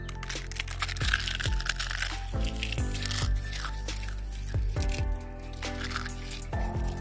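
Eggshells being crushed by hand into a homemade liquid plant fertilizer mixture, a steady close crackle and crunch of brittle shell lasting throughout, with sharp snapping ticks scattered through it and no talking.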